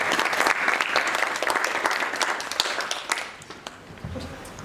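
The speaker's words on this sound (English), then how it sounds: "Give her a round of applause," Audience applause for a candidate at a student union officer candidates' Q&A: dense, sustained clapping from a crowd for about three seconds, then thinning out and fading near the end.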